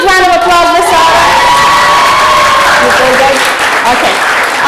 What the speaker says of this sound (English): Can we give a huge round of applause for Sarah?